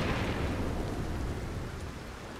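Rain and low thunder rumble in the video game Red Dead Redemption 2, a dense hiss over deep rolling noise that slowly fades across the short stretch, with no voices.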